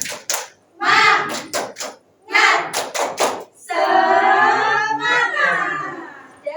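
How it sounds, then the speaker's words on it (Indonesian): Schoolchildren in a classroom perform a rhythmic clapping chant, with bursts of claps and thumps between shouted chant words, ending in a sustained group shout. "Kita akan melakukan ice breaking tepuk semangat"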